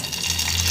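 Water poured into a pan of hot ghee for potato kheer, a short close gushing splash lasting under a second.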